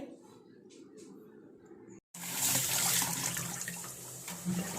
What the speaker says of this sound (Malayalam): മുട്ടയ്ക്കകത്ത് വെള്ളം ഒഴിച്ച് വയ്ക്കുക